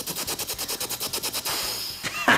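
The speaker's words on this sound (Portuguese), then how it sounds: "Selvit, eu vou tentar dar tiros de metralhadora nele." A machine gun fires a rapid, regular burst of about a dozen shots in an animated scene, then the firing gives way to a sustained rushing noise and a final impact.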